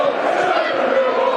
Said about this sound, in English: That's got the den livened up as well. It's brought the crowd into play.